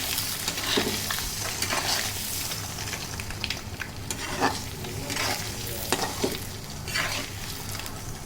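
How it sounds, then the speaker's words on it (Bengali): Eggs fry in a pan for egg bhuna, with a steady close sizzle under repeated scraping stir strokes of a spatula against the metal. "এখন ডিমগুলো একটু ভেজে নেব"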